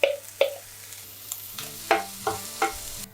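Diced onion going into a pan of browned meat for a New Zealand meat pie, with a few sharp clattering stirs and scrapes over a low steady sizzle, close by and with no talking.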